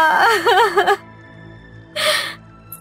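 A grieving widow crying, a wavering sobbing wail that breaks off, then a brief breathy gasp after a pause, close and loud.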